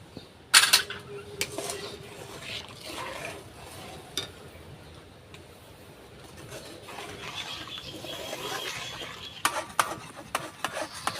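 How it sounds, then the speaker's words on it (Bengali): Semolina being stirred into milk in a pan for gulab jamun dough, a quiet scraping and stirring under faint background noise, with a few sharp clinks near the start and end. "সুজিটা কিন্তু আমি একসঙ্গে দেব না, অল্প অল্প করে দেব আর নাড়তে থাকবো।"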